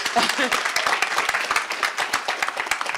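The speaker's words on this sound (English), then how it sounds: "Oh, that does deserve a round of applause." An audience at a teaching and learning lecture series breaks into a round of applause, dense continuous clapping from many people, loud and close.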